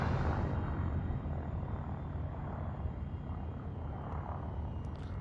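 Spaceship engine at full throttle in the space game Elite Dangerous, flying four kilometres above a planet's surface: a steady, dense broadband roar and rumble that holds loud and unbroken throughout, with no voices.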